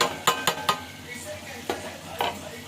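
Carrots are stir-fried on low heat in a pan for semiya upma, with a spoon scraping and clinking against the pan in a few sharp strokes over a faint sizzle.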